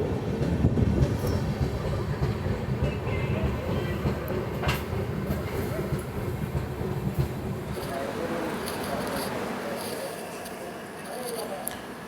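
Inside the Hazur Sahib Nanded Hadapsar Express at Kopargaon, a steady low rumble of the train car continues throughout, with faint clicks and muffled background voices.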